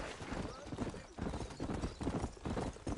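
Horse hooves clip-clopping in Red Dead Redemption, a steady close trotting rhythm throughout, with a voice speaking over the hoofbeats.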